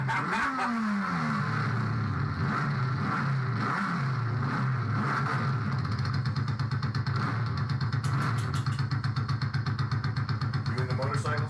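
Motorcycle engine revving up and down in rising, falling sweeps, loud and close, with a steady idle drone underneath and voices talking over it.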